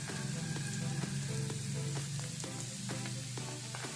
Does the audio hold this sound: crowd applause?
no